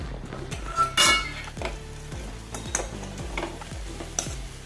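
Pumpkin leaf stir-fry being stirred in a pan, repeated metal spoon scrapes and clinks against the pan in an uneven rhythm over a low sizzle, close and without talk.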